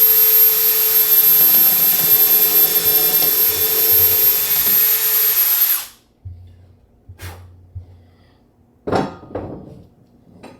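A power drill bores a mounting hole while building a DIY teardrop camper trailer, running loud and steady for about six seconds, then stopping, followed by a few short clunks and knocks.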